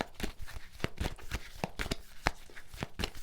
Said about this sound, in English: I'm going to shuffle the cards first of all